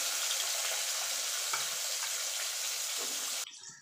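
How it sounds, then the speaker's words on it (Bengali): Potatoes and flat beans frying in hot oil with occasional stirring, giving a steady, dense, close sizzle that drops away abruptly just before the end. "এবার আলু আর সিমটা ভেজে নেব ওই তেলে। আলুটা একটুখানি নাড়াচাড়া দিয়ে নেব।"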